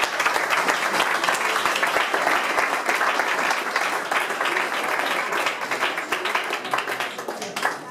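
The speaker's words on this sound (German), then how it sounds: "Zuerst mal einen großen Applaus für den Jan" A German audience at a live event breaks into dense, steady applause, many hands clapping at once in a sustained wash that barely fades over several seconds.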